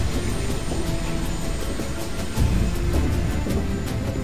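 Steady droning aircraft rotors in the video game Medal of Honor: Warfighter, a continuous loud engine roar with rhythmic pulsing and no talking.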